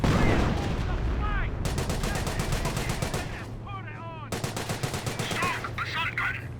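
Rapid bursts of automatic gunfire from the Company of Heroes battle game, dense repeated cracks in long volleys with short gaps, loud and close, with brief game voice lines in between.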